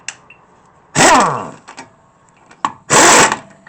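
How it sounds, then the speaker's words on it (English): Two loud bursts of a power impact tool tightening car wheel lug nuts during front brake work, each lasting about half a second to a second, separated by a short pause with faint clicks. "let's tighten these bolts up here. Lug nuts."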